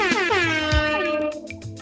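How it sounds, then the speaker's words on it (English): A loud air horn blares in one sustained rich, harmonic blast with a slight pitch bend, cutting off near the end and giving way to brief scattered noise. "that's the air horn, which means welcome back to another episode of the Shedtime podcast"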